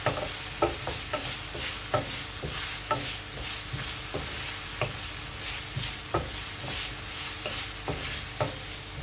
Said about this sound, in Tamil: இப்போ பொட்டேட்டோ ஃப்ரை பண்ணிக்கலாம்